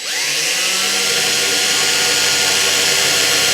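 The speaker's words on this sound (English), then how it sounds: "So I'm going to drill a hole" Power drill boring a hole into pot metal on a Mustang part, a steady loud high-pitched whine running continuously and close up, with no talking.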